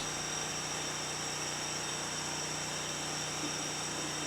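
A gas burner roars steadily beneath a pan of water on a sorghum syrup firebox, giving a constant broadband hiss with a low hum, close and unbroken, with no talking.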